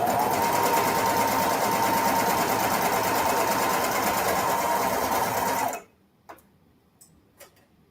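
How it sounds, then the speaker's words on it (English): A sewing machine runs steadily at close range, stitching the right-sides-together waistband seam of a ruffled skirt, its rapid even whir lasting about six seconds before it stops, leaving only a few faint clicks. "I'm going to go ahead and quick just sew this right sides together"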